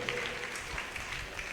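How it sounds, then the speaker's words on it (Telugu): A church congregation clapping at a testimony service, a brief burst of dense, fairly soft applause from many hands, heard alone. "గట్టిగా చప్పట్లు కొట్టి"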